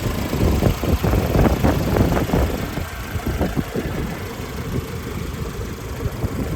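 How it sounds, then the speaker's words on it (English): A 1997 Mercedes E220 W124 engine idles steadily with a low, rumbling drone, fairly close and continuous, with no talking. "The engine's running"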